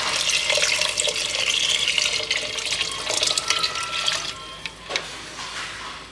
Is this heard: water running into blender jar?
yes